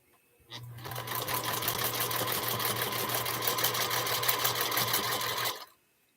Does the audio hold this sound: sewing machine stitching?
yes